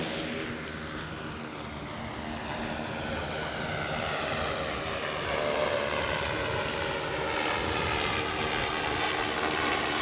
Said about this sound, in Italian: vediamo il drone che si è acceso, adesso prenderà velocità e partirà